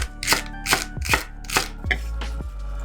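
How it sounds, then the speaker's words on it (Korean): A knife finely chops celery on a cutting board while preparing fish soup, giving about six sharp, evenly spaced thuds up close, each a crisp blade strike. "샐러리도 잘게 썰어요."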